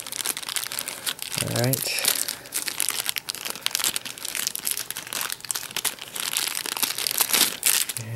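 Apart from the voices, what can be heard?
Motorola Droid Razr M phone taken out of crinkling packaging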